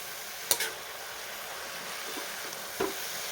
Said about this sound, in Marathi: आपल्याला अशी तेलामध्ये अर्धा एक मिनटं छान परतून घ्यायची